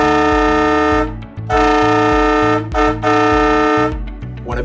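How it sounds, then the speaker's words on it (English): Cannonball Express Pro three-trumpet train air horn with a heavy-duty onboard air system, blasting a series of loud, chord-like toots of varying length with brief gaps between them, close and alone. "Cannonball Express Pro is a 3-trumpet train air horn with a heavy-duty onboard air system."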